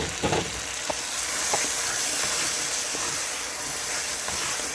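Ginger and garlic paste frying in a pan for chicken biryani, a steady loud hissing sizzle throughout with a few faint scrapes of stirring early on, close and with no voices.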